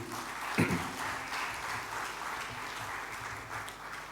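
An audience at a cultural show in the Suva Civic Centre applauds, a steady wash of clapping after one sharp thump near the start, moderately distant and even throughout.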